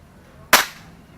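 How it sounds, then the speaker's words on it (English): A single added explosion sound effect, a short sharp blast that cuts in loud and decays quickly into quiet. "I'll try and add like an explosion"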